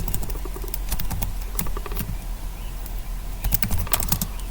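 Keys clatter in quick, irregular bursts as code is typed on a computer keyboard, close and fairly steady, with short pauses between flurries over a low background hum.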